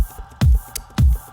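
Kick drum sample for a halftime beat, two punchy booming hits about half a second apart, each with a deep falling tail, over a faint background loop.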